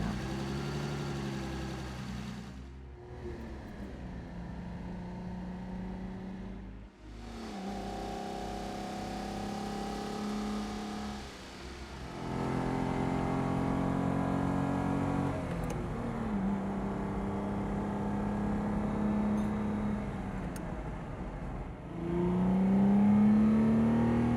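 A Ferrari 206 Dino sports car engine idles and then revs repeatedly, its exhaust note rising and falling in loud, close bursts with no talking.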